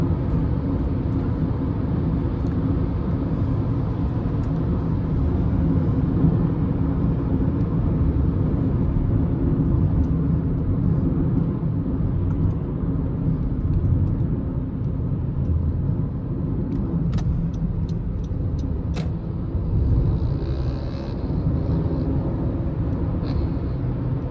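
A 2018 Honda CR-V with the 1.5 turbo engine driving at night, heard from inside the cabin as a steady, continuous low rumble of engine and road noise with no break.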